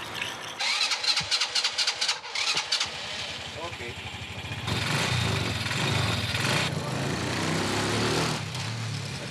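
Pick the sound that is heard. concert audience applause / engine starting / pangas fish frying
engine starting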